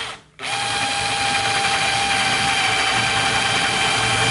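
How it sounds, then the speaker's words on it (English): After a brief pause, an electric drill boring a pilot hole for dresser feet whirs up and runs steadily at high speed, loud and close, with no talking. "the drill bit didn't bounce when you start it, because it followed the pilot hole"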